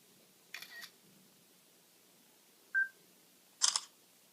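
Camera shutters of an iPhone 4S and a Samsung Galaxy S2 photographing a book: a crisp shutter click, a short electronic beep, then a second sharp shutter sound, each isolated against near silence.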